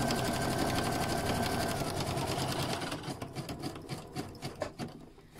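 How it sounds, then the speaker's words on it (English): Sewing machine stitching a fabric book bag, a loud fast continuous run of needle strokes that slows into separate stuttering stitches near the end. "so I'm just going to show the stitching"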